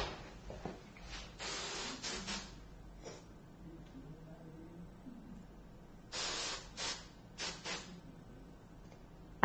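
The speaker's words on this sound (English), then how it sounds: "And then spray it in place once you're happy with the placement." Short bursts of hairspray hiss from an aerosol can onto a styled Hollywood-style hairdo, several quick sprays in two clusters with quiet pauses between.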